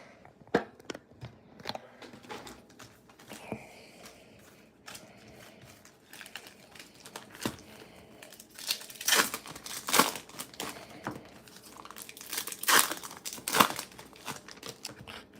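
Bowman Chrome baseball card packs are torn open up close, giving irregular bursts of crinkling foil and ripping wrapper that grow busier and louder.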